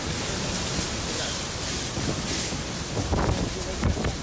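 Strong storm winds roar steadily through a building as debris is swept away in Texas and Louisiana, a dense, continuous rushing noise with a few louder gusts and thumps near the end.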